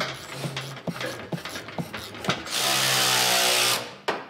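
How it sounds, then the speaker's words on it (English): Sharp clicks and ratcheting taps come in a quick series, then a power tool whirs loudly for about a second and a half before stopping. "Power tools."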